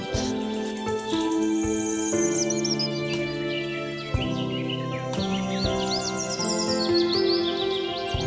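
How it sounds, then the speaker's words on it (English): Continuous bird song with busy high tweets and trills from forest birds, layered over steadier background calls and a faint insect-like hum, heard for several seconds without speech. "Finch."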